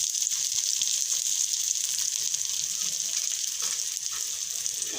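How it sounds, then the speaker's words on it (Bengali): Onion and garlic sizzle steadily in hot oil while being browned for a beef liver bhuna, a continuous bright frying hiss close by with no talking. "তাই দিয়ে দিচ্ছি এখানে পেঁয়াজ আর রসুন, একটু লাল লাল করে একটু ভেজে নেব।"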